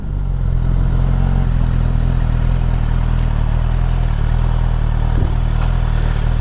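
A Suzuki GSX-S1000F motorcycle engine idles steadily and loudly up close while the bike is being parked, a constant low rumble with slight mechanical clatter.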